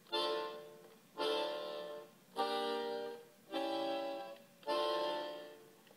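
Five slow, heavy swells of bowed strings, each note leaning in then fading, forming a weighty, drawn-out pesante tango rhythm.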